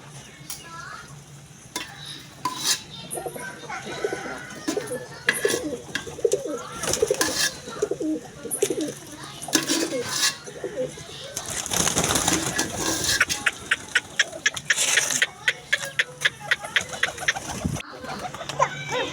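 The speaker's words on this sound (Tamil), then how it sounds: "நம்ம புறாக்களுக்கு எல்லாத்துக்கும் அப்படியே ஒரு இறை எள்ளி போட்டாச்சு அவ்வளோ அழகாக சாப்பிட்டு கிடக்குது" Fancy pigeons cooing softly while pecking at scattered grain feed, with steady low coos, fluttering and scattered sharp pecking taps, plus a quick run of rapid clicks near the end, all fairly close.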